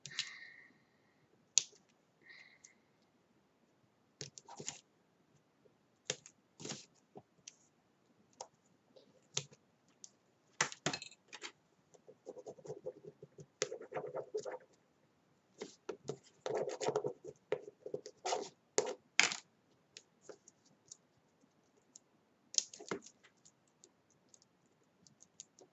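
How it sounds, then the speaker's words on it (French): Scissors snip through a piece of plastic in sharp, separate clicks and short crunchy bursts, close and quiet with silent gaps between cuts. "Celui-là, il est en plastique, donc pour le découper, il faut forcément un ciseau."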